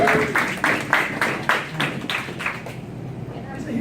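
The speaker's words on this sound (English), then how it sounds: "Give him a big round of applause" Applause from an audience at a training event, a burst of rhythmic clapping that fades out over a few seconds.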